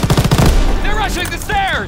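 A rapid burst of machine-gun fire from a World War II battle in Call of Duty: WWII rattles loudly for about half a second, then gives way to shouting soldiers.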